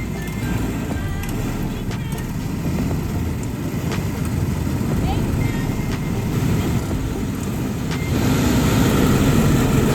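Mini wedge race cars running hard on a slick track in a full-contact race, their engines a steady, loud drone with a denser, louder surge near the end, under a commentator's voice.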